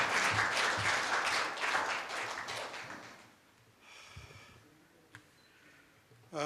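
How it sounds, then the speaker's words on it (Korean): A round of applause welcomes a speaker at a Korea University law school ceremony, loud and dense at first, then thinning out and fading to a quiet room with a few scattered sounds. "여러분 큰 박수로 환영해 주시면 감사하겠습니다"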